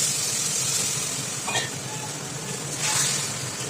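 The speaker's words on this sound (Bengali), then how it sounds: "এবার আমরা সামান্য জল দিয়ে দেবো।" A little water goes into a pan of potatoes frying for a boal fish curry, raising a steady, loud steamy hiss and sizzle that holds throughout, with brief flares of spitting.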